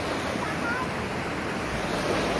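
A river flows near Stone Hill Resort in Roing, Arunachal Pradesh, a dense unbroken rush of water mixed with wind buffeting the microphone, loud and steady throughout.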